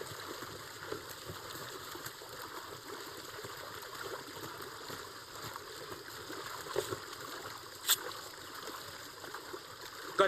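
Steady flowing stream water in a jungle setting, a continuous soft rushing and trickling wash at moderate distance with a few faint clicks, no voices.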